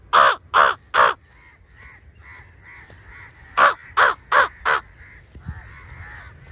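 Crows cawing loudly and close, a burst of three harsh caws followed after a pause by a second run of four, with a quieter stretch of faint background noise between.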